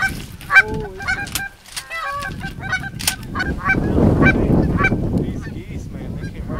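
Geese flying back over water during a duck and goose hunt give loud, repeated honking calls close by. The honking thins out as a rushing wind-like noise rises.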